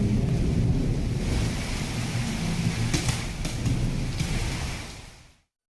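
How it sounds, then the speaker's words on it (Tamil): Heavy rainstorm with thunder over villages around Arani in Tamil Nadu: a dense, steady roar of rain and low rumbling fills the whole stretch, with a few brighter bursts midway, before cutting off abruptly near the end. "இடி மின்னலுடன் கனமழை பெய்தது"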